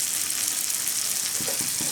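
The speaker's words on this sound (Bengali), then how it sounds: "মশলাটা একটু ভালো করে কষিয়ে নেব।" Ground cumin, coriander and dried chili powder frying in oil in a pan, a steady close hiss and sizzle with a few soft scrapes near the end, no talking.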